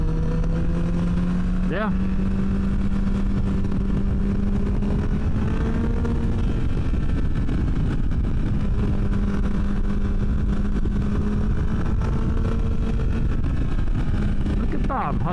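A Triumph Tiger 660 Sport motorcycle engine runs steadily while being ridden through twisty roads, a loud continuous drone with rising and falling pitch under wind noise, and a voice speaks briefly.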